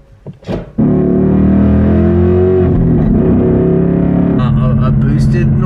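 A 2024 Ford Mustang with an MT82 manual transmission revs hard, its loud, distorted engine drone holding steady and rising in pitch, after a brief burst of talk at the start.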